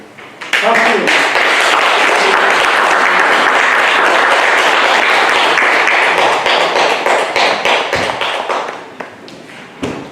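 Loud sustained applause from an audience gathered at a Won Buddhist temple in Busan, welcoming a minister, with dense clapping filling the room for several seconds before tapering off near the end.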